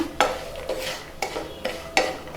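A spoon stirs homemade puliyogare powder with salt in a pan, several distinct scraping scoops at an uneven rhythm, close and fairly quiet with no one speaking.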